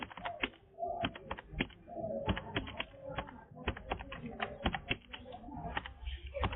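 Keys on a computer keyboard clatter in quick, uneven bursts of close clicks while someone fills in an online application form, with only short pauses between runs of typing.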